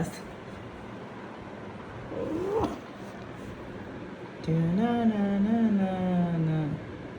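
A cat gives a drawn-out, wavering meow close by, preceded by a short, softer mewing sound, over a low ambient hum.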